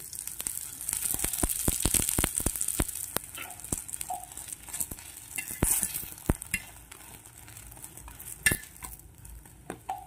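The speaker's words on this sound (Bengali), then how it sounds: "এরপর পাটিসাপটা পিঠাকে সামান্য আমি দেশি ঘি দিয়ে ভেজে নেব।" Patishapta pancakes fry in desi ghee with a soft steady sizzle, while a utensil scrapes and taps against the pan in repeated sharp clicks close by.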